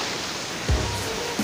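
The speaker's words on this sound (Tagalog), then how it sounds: "Palakas na rin po yung alon, mga idol." Ocean waves surge at Boloboc cave, a steady broadband wash with a low thump of a wave hitting around the middle and another near the end, fairly close.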